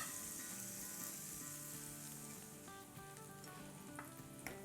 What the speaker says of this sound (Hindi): अच्छा अब ये सौटे हो रहा है हमारा